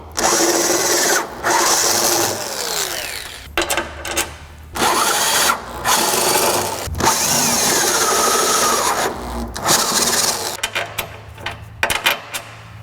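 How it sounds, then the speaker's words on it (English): A power drill whirs loudly in repeated bursts while working on a truck's rear suspension, spinning up and stopping several times with short pauses between runs. "Got the drill in our hands"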